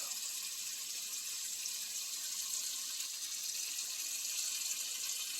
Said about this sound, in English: So you put water. Make sure it's till the top.